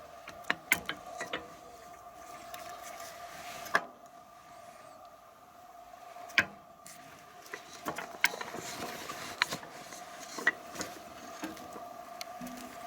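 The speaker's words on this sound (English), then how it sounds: "If I open that, I'm able to swing out the complete top roller." On a sheet metal roller machine, the hatch is opened and the top roller swung out, giving a quiet series of scattered metallic clicks, knocks and ratcheting taps with short pauses between them.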